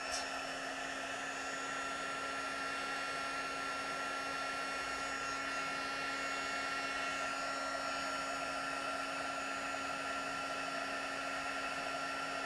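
A heat tool blows steadily and alone, melting gold embossing powder on a stamped card, a constant whirring hiss with a faint high whine that holds unchanged throughout.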